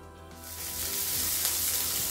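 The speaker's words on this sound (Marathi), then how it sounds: "या मेल्टेड बटरवर मी लसूण घालते।" Garlic hits melted butter in a flat pan on a gas stove, breaking into a bright, loud sizzle that swells within a moment and holds steady, close up.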